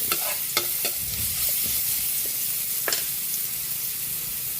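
Garlic sizzles steadily in a hot pan while a spoon stirs it, giving sharp intermittent scraping clicks over a constant fizzing hiss, close and moderately loud with no talking.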